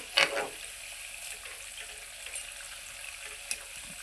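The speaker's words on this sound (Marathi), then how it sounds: "सोनेरी रंग येईपर्यंत ना आपण त्याला फ्राय करून घेऊया" Karanji pastries deep-frying in hot oil until golden, a steady faint sizzle with a brief louder burst at the start, with no talking.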